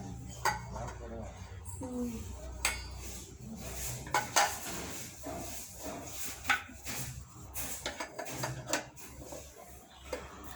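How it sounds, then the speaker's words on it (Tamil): Metal spoon scraping and clinking in a cooking pot during stirring, then a lid set down, with a run of close, quiet, irregular clatters over faint background hum. "நல்லா கிளறி விட்டு மூடி வச்சுக்கோங்க"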